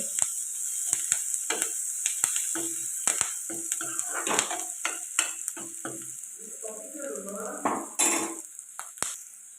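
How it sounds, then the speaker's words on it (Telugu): Onions and curry leaves frying in a pan for an egg curry, a steady hiss of oil broken by frequent sharp clinks and scrapes of a spoon against the pan, close and fairly loud throughout. "ఇప్పుడు ఇందులోకి కరివేపాకు కొద్దిగా అలాగా ఫ్రై చేసుకోవాలి"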